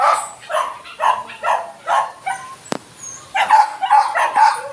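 A dog yips and barks in quick repeated bursts, close by, with high whimpering whines mixed in near the end.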